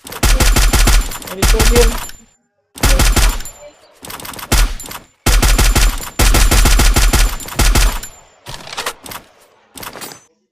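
Automatic gunfire in a fast-paced shooter game fires from a bridge in loud, rapid bursts separated by brief pauses, with several long volleys and a few shorter ones, close and dominant, with a voice speaking briefly between them.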